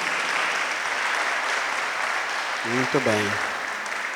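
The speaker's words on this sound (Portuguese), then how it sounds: "Uma salva de palmas para o nosso diácono" Church congregation applauding for their deacon after Mass, a steady broadband wash of clapping throughout, with someone speaking briefly over it near the end.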